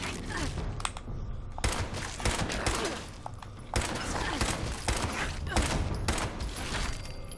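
Scorched enemies in the Fallout 76 video game fire guns as repeated bursts of close, loud gunfire that come in clusters with short gaps between them, under a steady layer of game noise.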